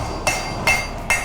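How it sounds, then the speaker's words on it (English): Three ringing hammer blows strike red-hot steel and iron bars being forged into a Viking-style pattern-welded blade, each a bright, loud metallic clang spaced about 0.4 seconds apart. "once welded and hammered together, they create a sharp, flexible blade with a distinctive pattern"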